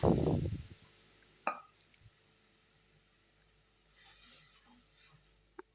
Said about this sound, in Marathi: त्यामध्ये हे रगड्याचे मिश्रण ओतून घ्यायचे.